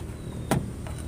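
A single short, sharp lock click or chirp comes from a Toyota Hiace van as it is locked, rising briefly over quiet background hum.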